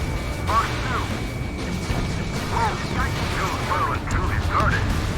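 Booming blasts of targets being destroyed in the jet combat game Ace Combat 7 roll on steadily under clipped radio-style voices and a dense, continuous battle din.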